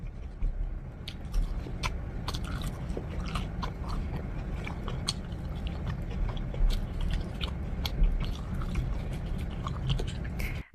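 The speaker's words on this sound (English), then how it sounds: "she bites, she's still chewing, and she takes the next bite" A person eating fast-food fried chicken bites and chews steadily, with close, repeated wet crunching and mastication sounds throughout and no talking.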